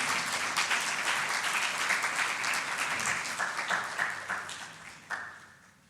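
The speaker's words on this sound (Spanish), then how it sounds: "¿Cuántos dan una ofrenda de palmas a Dios por esa salvación tan grande?" A church congregation claps together in sustained, dense applause that stays steady, then tapers and fades toward the end, with a few louder claps standing out near the close.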